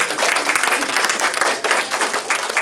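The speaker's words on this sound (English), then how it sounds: "So let's give a big round of applause to her." Brisk, close applause from a small audience at a Srimad Bhagavatham session in a cultural center, a dense patter of many hands clapping steadily across the whole moment.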